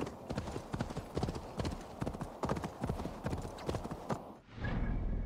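Horse hooves clip-clop in a steady rhythm in Assassin's Creed Valhalla, close and clear, over a low background rumble. A brief shift in the sound comes near the end.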